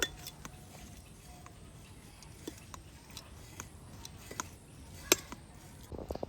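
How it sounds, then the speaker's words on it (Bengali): A spatula pressing boiled papaya against a perforated plate to squeeze out water, heard as scattered light clinks and taps of metal on metal, faint and close, with a brief rustle at the end. "সেদ্ধ করে রাখা পেঁপেগুলো ছিদ্রযুক্ত থালার মধ্যে ঢেলে দিচ্ছি এবার একটা খুন্তি দিয়ে চেপে চেপে পেঁপের মধ্যে থাকা জলটা শুকিয়ে নেব"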